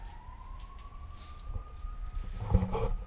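Faint emergency vehicle siren, a thin steady wailing tone drifting slightly upward in the distance, with low rumbling background noise and a few louder thumps near the end.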